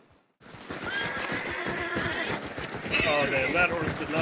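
A horse whinnies in the game Hunt: Showdown over busy game sounds with hoofbeats and clatter, while people talk throughout.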